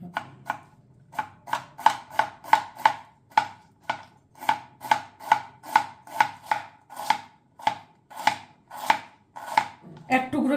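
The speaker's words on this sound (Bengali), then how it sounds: "এবার এই সাদা অংশগুলোকে আমি একদম ঝিরিঝিরি করে কেটে নেব।" A knife finely shreds the white inner part of a cabbage on a board, making about twenty-five crisp, evenly spaced chops in a steady rhythm, close and clear with no talking.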